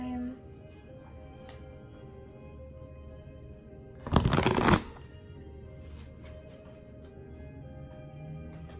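A short burst of tarot cards being shuffled, a quick riffling rush lasting under a second, set against a quiet room with faint background noise.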